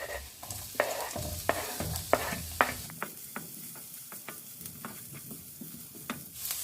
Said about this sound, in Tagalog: So gisahin muna natin ang luya. At isunod na natin ang sibuyas at bawang.